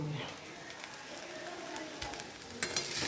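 Chow mein with carrot, green chilli and capsicum sizzles softly in a pan, a faint continuous frying hiss with a few stirring clinks near the end, while someone talks over it.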